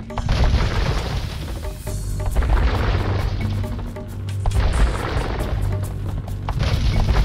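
Fire ships and galleons trade fire in an Age of Empires II naval battle, a dense continuous rumble of booms and cannon-like impacts layered thickly over one another at steady loudness.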